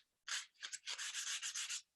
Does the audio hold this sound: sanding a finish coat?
yes